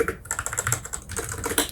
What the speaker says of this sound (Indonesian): keyboard ini tuh dia udah ada sound dampernya, dia pakai PE foam